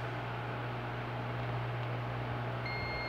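A multimeter's continuity tester sounds a steady high-pitched beep near the end while checking a microwave oven's time-delay fuse, heard close over a constant low electrical hum and hiss, with no talking.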